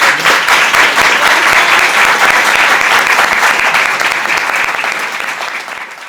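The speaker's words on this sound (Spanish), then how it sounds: "¿Podemos por favor darle un aplauso gigantesco a la señora?" A large audience gives a big round of applause for a woman at a Spanish-language event, loud dense clapping close by that holds steady and slowly fades toward the end.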